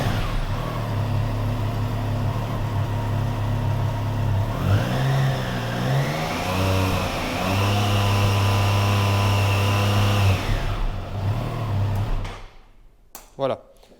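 A 2021 Triumph Trident 660 three-cylinder motorcycle starts up and idles, then revs in rising and falling sweeps before cutting off, close and loud.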